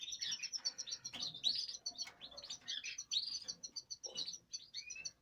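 Canary chicks chirp and cheep in quick, high, bright bursts while being fed, a busy near cluster of tweets with short gaps and no speech.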